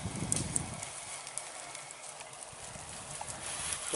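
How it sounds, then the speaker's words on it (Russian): Goats walk past at an old manor estate, their hooves clattering in light, uneven clip-clop steps against a steady outdoor hiss, moderately near and with no talking over them. "Козы идут."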